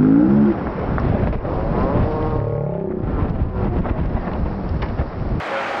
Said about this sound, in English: And that noise is not the ocean. That's wind.